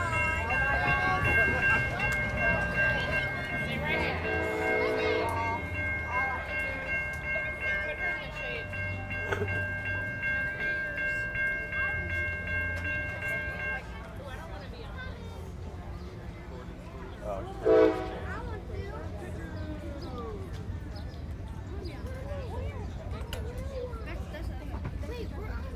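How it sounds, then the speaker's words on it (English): A train rolls past at a rail festival in La Grange, Kentucky, a long steady rumble with a sustained tonal horn blast early on and a brief sharp sound later, while people talk over it. "I hear our next train, ladies and gentlemen."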